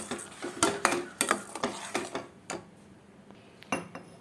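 A spoon stirs ground tomato, ginger and garlic paste into a pan for ivy gourd gravy, giving a series of sharp metallic clinks and scrapes in an uneven rhythm that thin out toward the end, with no talking.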